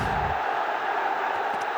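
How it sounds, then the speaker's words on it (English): Spectators in the stands at a cricket stadium cheer and applaud as a distant, broad crowd roar that stays at a steady, moderate level for the short span. "Appreciation, delight, smiles, applause, cheering in the stands."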